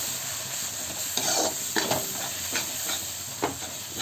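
Tomato masala with Kashmiri red chili and meat masala stirred in a frying pan: a steady close sizzle throughout, with several soft spoon scrapes and clicks on top.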